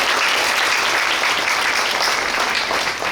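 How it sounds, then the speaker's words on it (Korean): At a memorial ceremony marking the 43rd anniversary of the May 18 Democratic Uprising in Suncheon, the audience gives a warm round of applause, dense and continuous for about three seconds with no talk over it. "김석 사무총장님께 뜨거운 박수 부탁드리겠습니다"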